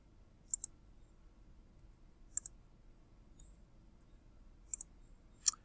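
A computer mouse clicks quietly while someone works in an Excel spreadsheet. Sharp click pairs come every couple of seconds over a faint room hum.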